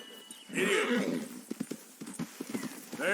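Horses in the Red Dead Redemption 2 video game: a loud, close neigh followed by a run of clip-clopping hooves and another whinny at the end, with no talking.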